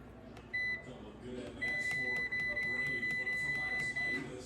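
Microwave oven buttons beep as the cook time is set, with one short tone and then a rapid run of about nine crisp, close beeps, and a person talking quietly underneath.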